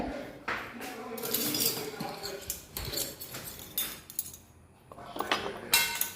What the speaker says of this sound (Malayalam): പിന്നെ വെണ്ടക്ക, സ്പൂൺ എടുക്കട്ടെ